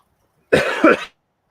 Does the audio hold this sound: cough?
yes